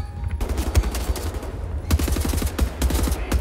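Rapid assault rifle fire in the shooter Wolfenstein: The New Order, a dense stream of close, punchy shots layered over a constant low rumble and other game noise.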